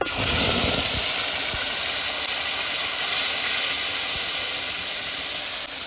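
Onion, garlic, ginger and chili pastes hit a hot pan with whole garam masala and bay leaves, giving a loud, steady, close-up hissing sizzle that holds for the whole stretch and fades slightly at the end.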